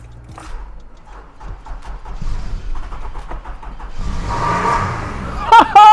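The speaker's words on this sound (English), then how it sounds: "the car is turning on, it's switching, but it's not cranking up" A car engine cranks as it tries to start in Lagos, Nigeria, giving a rising mechanical churn that builds after a quieter stretch and ends in louder, rougher bursts. Faint, muffled sounds come before the cranking.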